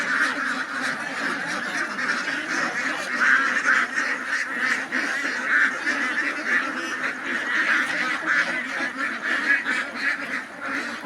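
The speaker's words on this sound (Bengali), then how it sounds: "তিনি হাঁসকে সেই সকালবেলা খাবার দিচ্ছেন।" A large flock of farm ducks, around 2200 birds, quacking and honking loudly and continuously at morning feeding, a dense chorus with no talk.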